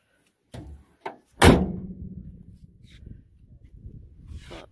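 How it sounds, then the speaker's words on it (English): A van door swings shut with a loud, close thump after a couple of softer knocks, leaving a quiet rumbling tail. "Let's close the door."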